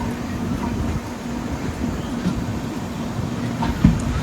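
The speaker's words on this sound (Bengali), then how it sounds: "তো ট্রেন এখন স্কিপ মারছে, দেখেন আমবাড়ি ফালাকাটা।" A passenger train rolls through Ambari Falakata station without stopping, near tea gardens, with a steady, even rumble of wheels and carriage noise heard from inside.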